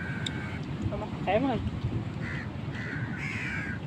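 Crows caw at a beach, several harsh calls close by, some in short repeated bursts, over wind rumble and nearby talk.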